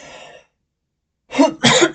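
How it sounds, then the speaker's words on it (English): A single person coughs or clears the throat briefly, close to the microphone, in two quick bursts after a short silence. "Apologies for the cough."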